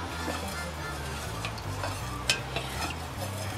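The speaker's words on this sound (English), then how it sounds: "So stir. Some people stir for two. I'm always stirring and stirring in between." Melted soy candle wax stirred in a container, a continuous soft swishing with a faint sizzling hiss throughout and a couple of brief clinks, close and alone.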